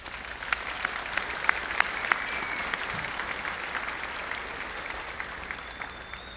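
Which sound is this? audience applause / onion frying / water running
audience applause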